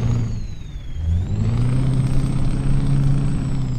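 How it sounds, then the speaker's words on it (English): A deep Mack Titan Superliner truck's E9 V8 engine in Euro Truck Simulator 2 idles and revs with a low, throaty rumble and a thin whine above it, loud and close. "So there's that V8, the E9 V8."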